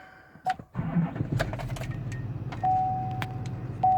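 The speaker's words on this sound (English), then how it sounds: "So when we get in and fire these trucks up," A diesel Chevrolet Suburban truck engine starts up with a short crank and settles into a low, steady idle nearby. Faint clicks and a brief jingle sit on top, with no talking.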